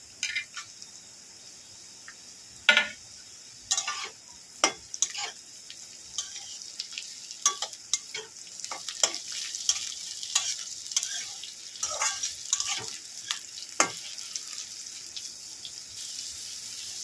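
Capsicum stir-fried in a pan for egg chowmein: scattered scraping and clattering strokes of a spatula over a soft steady sizzle, close and fairly quiet, with no talking.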